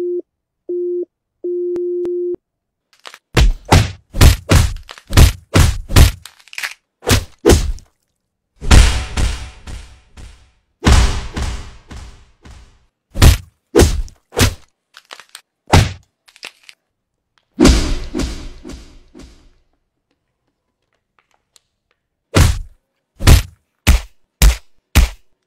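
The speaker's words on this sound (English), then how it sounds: "I'm speed hitting." Sharp cracks and thwacking hits come in rapid clusters, loud and close, with short silent gaps between volleys. A busy-signal tone beeps a few times at the start.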